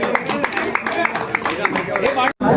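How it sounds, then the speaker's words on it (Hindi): An auction audience for a local cricket league season bursts into clapping, steady and fairly loud, with voices and other sound mixed in throughout before a brief silent break near the end. "एक बार जोरदार तालियां हो जाए सबके लिए"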